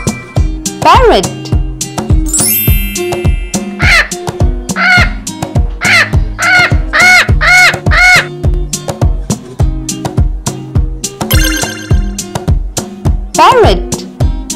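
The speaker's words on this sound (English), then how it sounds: "Parrot." A parrot squawks in a run of loud, harsh, repeated calls, tightly spaced over a steady rhythmic backing track.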